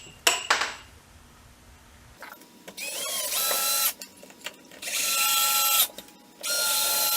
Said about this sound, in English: And now I mount the blast gate.